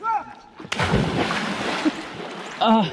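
Water splashing from people swimming in a river, a broad burst of splash and churning water lasting a couple of seconds, with voices talking before and after.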